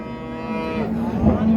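A cow at a cattle livestock market in Çorum, Turkey, gives one long, loud, close moo with a steady low drone that swells toward the end.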